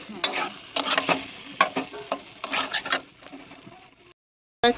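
Stem vegetables with turmeric and green chilli frying in a pan and being stirred, heard as repeated bursts of scraping and sizzle in an uneven rhythm, close, ending in a brief silence and a final clatter.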